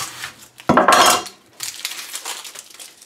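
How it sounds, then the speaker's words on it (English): Quartered red onions land in a stockpot for chicken broth with one loud, close clatter, followed by a few softer rustling knocks as they settle. "You just drop them in the pot."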